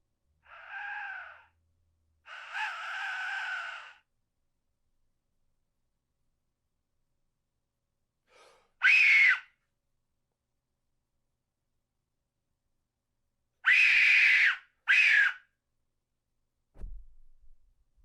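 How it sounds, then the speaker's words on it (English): A replica Aztec death whistle blown in short bursts, giving harsh, shrill, scream-like blasts: two longer opening tones, then a few sharp cries with long silent gaps between them, close and fairly loud. "It was on eBay as loudest screaming Aztec death whistle."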